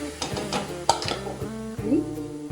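A pot of milk and ghee being stirred for traditional Konkan undalkal, with a few soft knocks and scrapes of a spoon against the vessel, heard close under a faint voice.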